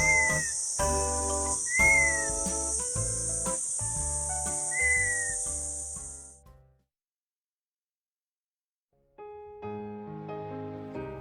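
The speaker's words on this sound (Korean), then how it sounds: "새끼들이 휘파람 소리를 냈다는 건 이제 이소가 다가왔다는 증거." Several clear, rising whistled notes from fairy pitta chicks ring out against a constant high insect drone and bright tonal chimes, then a few seconds of silence before tones return.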